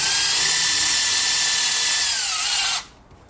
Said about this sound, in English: We're gonna drive screw right in the center of that opening.